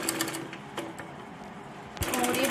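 A sewing machine stitches Patiala salwar fabric with a close, continuous whirring run that grows louder near the end, with a voice talking over it.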